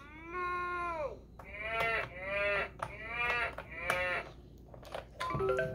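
Recorded cow moos from a Fisher-Price Learn Piano baby toy, several drawn-out, wavering calls in a row, close and clear with brief gaps between them and a short tonal chime at the end.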